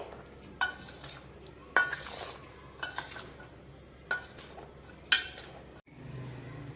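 Green peas coated with a little oil are mixed in a bowl, with five separate scraping clinks of a spoon spaced about a second apart over faint background hiss.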